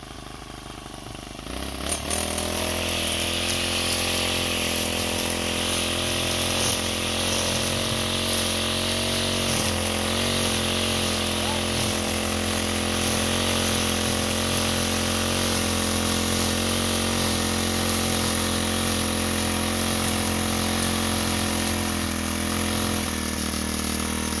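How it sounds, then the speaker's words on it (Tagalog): A grass cutter engine starts up and then runs at a steady high, buzzing drone for the rest of the clip while cutting in an eggplant field, loud and close with no talking. "Napakabilis talaga pagka grass cutter ang gamit."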